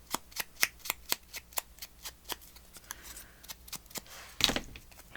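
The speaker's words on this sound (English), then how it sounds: "I'm going to tear that piece off." Paper for a mixed media collage is torn by hand, giving a quick run of crisp, dry rips and crackles close up, ending in a longer louder tearing burst, with no talk over it.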